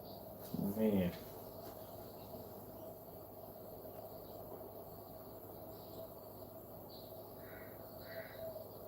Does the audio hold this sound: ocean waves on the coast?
no